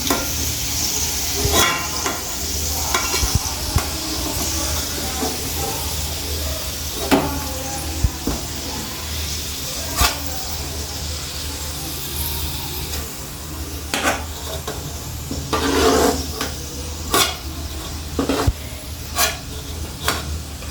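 Ingredients for vegetable dum biryani fry in hot oil with a steady sizzle, punctuated by repeated scraping, stirring strokes and occasional metallic clinks of a spoon against the pot.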